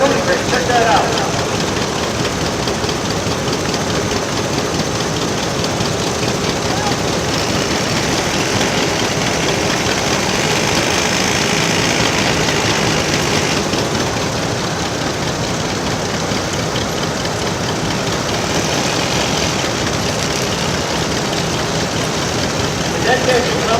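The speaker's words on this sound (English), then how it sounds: "The deck engine coming is a 1911 Cambridge undermount." A 1911 Cambridge undermount steam deck engine, with the engine mounted beneath the boiler, running at an old engine show; a continuous loud mechanical chugging and knocking persists throughout, with voices audible amid it.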